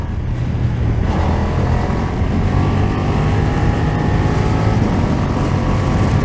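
A 2020 BMW F900R A2 motorcycle engine runs at steady speed with the rider shifting gears on the quickshifter, a continuous loud drone buried in heavy wind rush, with no voices.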